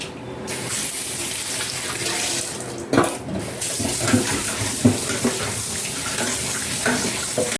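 Rohu fish is washed under a running kitchen tap: a steady, close rush of water with splashing and handling noises throughout, no voices.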